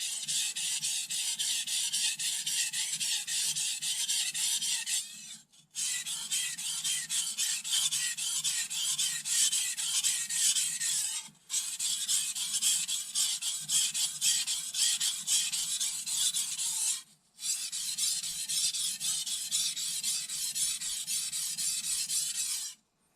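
A kitchen knife scrapes steadily along a whetstone in long, loud, even rasping passes, with three brief pauses between strokes.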